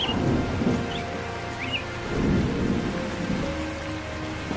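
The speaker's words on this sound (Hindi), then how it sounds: "ये ले, बारिश शुरू हो गई।" Steady rain falls with low rumbling thunder rolling through in a cartoon scene, a dense, continuous wash of sound with no talk.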